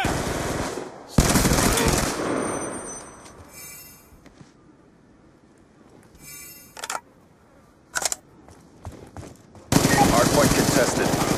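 Bursts of rapid video game machine gun fire from an online first-person shooter come in loud rattling volleys, separated by quieter stretches with short clicks and mechanical noises.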